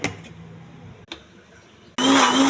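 After a quiet start, a kitchen blender grinding coconut, tomato and cumin into a paste suddenly roars to life at close range, a loud steady motor whir.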